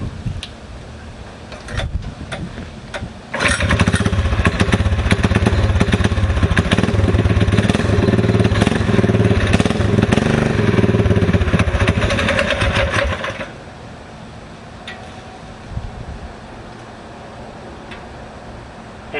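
A springer motorcycle engine with a newly installed kickstarter runs on half choke, a rough clattering idle of about ten seconds that then shuts off.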